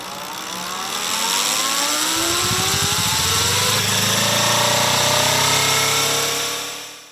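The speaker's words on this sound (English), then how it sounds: "this is the latest Kawasaki Hybrid." A 2023 Kawasaki Ninja 250 hybrid motorcycle engine revs up loud and close, its harmonic pitch climbing steadily for several seconds before easing off at the end.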